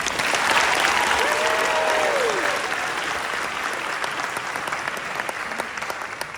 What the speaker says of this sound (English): give a big round of applause for our speaker this evening, Mr. John Westall